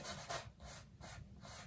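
Wet oil paint being rubbed off a canvas with a brush during a wet-on-wet landscape painting: faint, soft, dry scrubbing strokes repeating in a steady rhythm of about four passes, close up and with no talking.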